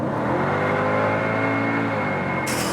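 A 2006 Mercedes C55 AMG estate with a V8 engine pulls hard from highway speed, its loud, steady engine roar climbing continuously with rising harmonics close up, ending in a sudden burst of high hiss.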